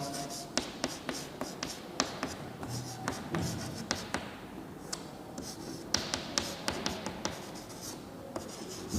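Handwriting during a programming lesson on classes and objects: steady pen or marker scratches and taps across the whole stretch, close and moderately loud, with no talking.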